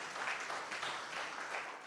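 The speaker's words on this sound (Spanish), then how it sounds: "Y un aplauso también, ¿por qué no?" A church congregation applauds during a sermon, a soft, steady wash of clapping heard from a distance that carries on evenly with no talk over it.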